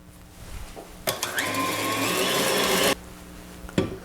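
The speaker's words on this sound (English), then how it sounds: "and then restart the mixer" A stand mixer whirs into motion beating eggs and sugar for a Victorian sponge cake, a steady dense motor drone lasting about two seconds after a couple of clicks, then cutting off abruptly with a faint knock afterward.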